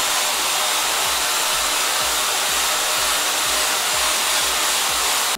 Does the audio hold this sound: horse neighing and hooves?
no